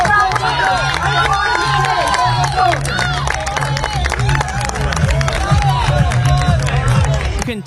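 Large crowd cheers, shouts and claps continuously and loudly at a final heat of Army team competitions during a military parade event, with dense babble and whoops throughout.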